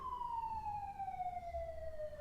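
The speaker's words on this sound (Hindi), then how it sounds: "My goodness, there is siren." A siren wails with a steady, slowly falling tone, loud and clear over low traffic rumble, with no talking.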